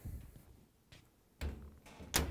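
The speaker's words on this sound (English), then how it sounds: "Let's close the door for now." A GE clothes dryer door is pushed shut during a repair, giving a few faint knocks and then two sharper closing thuds, the last the loudest, in a quiet room.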